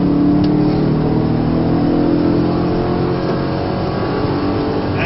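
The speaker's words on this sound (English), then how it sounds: "Accelerate out of that corner for me," A Camaro or Corvette on the Spring Mountain Motorsport Ranch racetrack accelerates hard down the back straight, its engine a loud, steady roar that climbs continuously in pitch from close range for several seconds.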